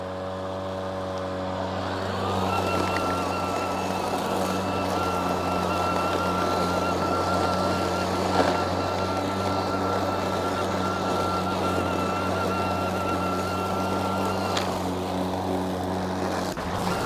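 A self-propelled electric push lawn mower whines up to speed after a moment, then holds a steady, loud motor drone with a faint high tonal whir for the rest of the stretch, no talk.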